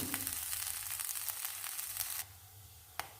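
Crushed ginger, garlic and curry leaves frying with grated coconut for a roasted-coconut chicken curry, a steady broadband sizzle that cuts off abruptly, followed by quiet and a single sharp click.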